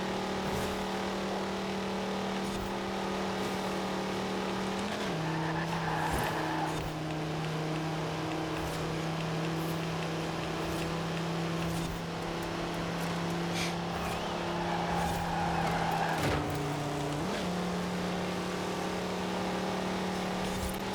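Fast cars racing in Forza Horizon 4, engines droning steadily at high pitch with gear-shift dips around five and seventeen seconds, a continuous loud sustained roar with no voices over it.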